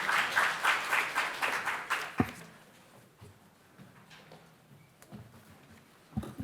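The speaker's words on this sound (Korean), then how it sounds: "큰 박수 부탁드립니다." A short burst of applause from an audience at a women's entrepreneurship policy event fades out after about two seconds, followed by quiet room noise and a few soft knocks.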